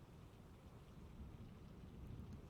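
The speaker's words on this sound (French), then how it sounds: "Mais seul le tonnerre lui répondit." Thunder rumbles low and faint beneath steady rainfall in a storm, the rolling growl rising slightly toward the end, with no voices.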